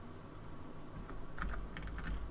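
Clicking in a small aircraft cockpit in Microsoft Flight Simulator after shutdown, a run of quick, light, irregular ticks over a steady low hum, close and without talk.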